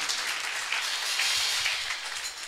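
A church congregation at a Sunday service applauds for Jesus, sustained dense clapping from many hands filling the room at an even level.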